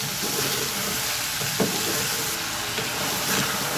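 Field beans and potatoes fry in oil in a pan, giving a steady, close sizzling hiss with occasional soft stirring scrapes throughout.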